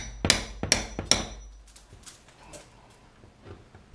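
A hammer strikes a nail puller three times in quick succession while pulling toenailed nails from wooden studs. The sharp, close metallic blows are followed by quieter scraping and knocking.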